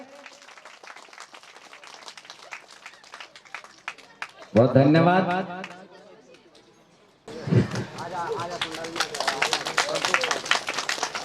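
An audience at a 2020 Kali Puja event breaks into loud, sustained applause after someone speaks over a microphone, with a brief burst of noise earlier before the clapping swells and continues to the end.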